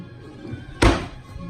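A single hollow thunk as a hotel room drawer at a Disney resort slides shut, close and short, with quiet room tone before and after.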